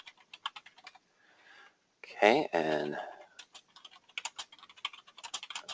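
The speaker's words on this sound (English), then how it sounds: "sorry for my typing, folks" Rapid clicking taps on a computer keyboard, starting and stopping in quick bursts, with someone briefly speaking in the middle.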